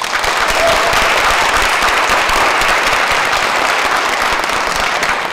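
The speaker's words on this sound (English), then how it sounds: "By a round of applause, how fabulous has the morning been?" Loud, dense applause from an audience at a morning panel discussion, sustained evenly throughout with no speech over it.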